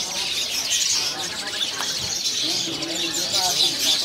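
Jalak kebo birds chirp and twitter at a busy bird kiosk, bright overlapping calls running steadily under nearby voices.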